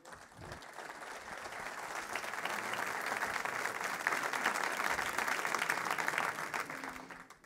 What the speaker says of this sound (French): j'aimerais qu'on puisse juste donner une main d'applaudissement au Seigneur à ce qu'il fait